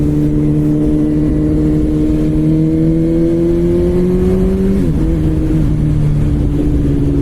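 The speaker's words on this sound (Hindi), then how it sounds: "पूरी गलियां गूंजती हुई बाइक की आवाज़ से।" A BMW S1000 RR motorcycle engine hums loudly and steadily at close range, its pitch rising slowly, then dipping briefly before settling again, with wind rush throughout, on a dark, cold pre-dawn ride.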